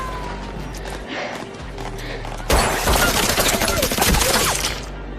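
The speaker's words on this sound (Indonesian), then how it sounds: "Tiba-tiba mereka dikejutkan oleh sebuah tembakan yang berasal dari luar penjara" Gunfire in a tense scene of The Walking Dead season 3 as a shot rings out from outside a prison, a dense rattle of sharp cracks over a low rumbling background.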